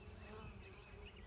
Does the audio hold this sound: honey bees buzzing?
yes